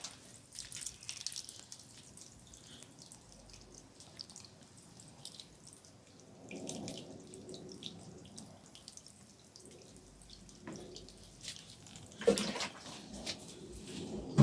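Water poured from above onto garlic planted in a pot, a soft, fairly quiet trickle and splash that swells in a few bursts, with no talking.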